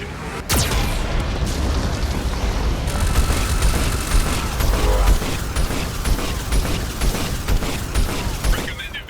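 Geth cannon firing in Mass Effect 2, a loud booming blast followed by a sustained rumbling roar and mechanical noise.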